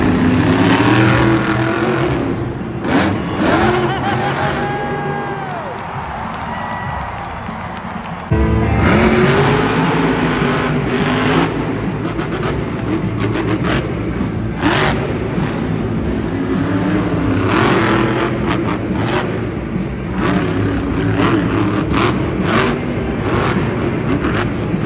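Monster trucks rev and roar at a Monster Jam arena show, loud engine bursts rising and falling over a noisy crowd, with a brief drop before the din surges back even louder.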